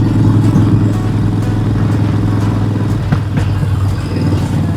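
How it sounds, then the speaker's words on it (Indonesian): A 1200 cc Harley-Davidson Sportster motorcycle fitted with an aftermarket V-Enhance exhaust rumbles loudly and close, its deep, uneven V-twin pulse steady throughout with slight throttle swells. "dan cc-nya ini 1200 ditambah dengan knalpot V-Enhance"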